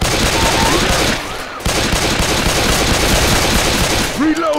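Sustained automatic gunfire in the Left 4 Dead 2 video game, a dense, loud, continuous rattle of shots with a brief dip partway through, then resuming alongside other game noise.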